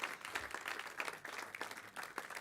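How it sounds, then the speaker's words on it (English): An audience at a live demonstration event applauding: a brief burst of steady, moderately distant clapping from a modest crowd, with no talk over it. "A round of applause."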